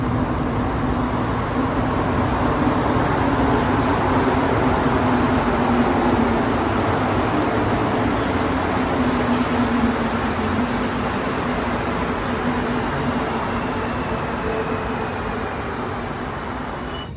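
Steady low rumble and whine of a moving Montreal metro train heard from inside, a continuous broadband roar with a faint high tone, no talking.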